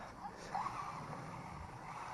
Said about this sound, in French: regarde, freinage brusque